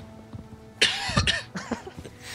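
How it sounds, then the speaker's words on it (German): A man coughs a few times in close succession, near the microphone and fairly loud, during a League of Legends gaming session with quiet background hum. "Moment, ich muss kurz husten."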